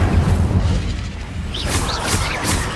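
Incendio fire spell cast in Hogwarts Legacy combat: a loud, sustained roaring blast with booming low rumble and crackling bursts, filling the whole moment without talk.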